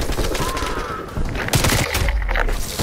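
Gunfire in the video game Call of Duty: Black Ops Cold War, loud bursts of shots and impacts close up amid dense game noise.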